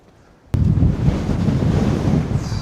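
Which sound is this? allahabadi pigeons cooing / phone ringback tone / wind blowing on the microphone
wind blowing on the microphone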